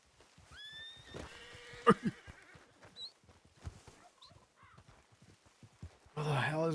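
A horse in a video game gives a short, rising whinny near the start, clear and fairly close, with voices chatting, a few thumps around it and a burst of louder game noise at the end.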